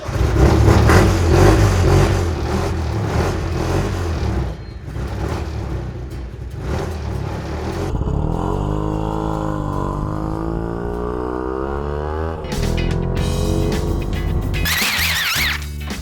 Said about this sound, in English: you turn the fuel pump on, and then you turn the ignition on, and then you hit the starter.